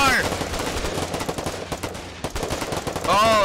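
Rapid automatic gunfire in a video game firefight against wardens, loud and continuous bursts filling the whole stretch with a tonal game sound at the start and end.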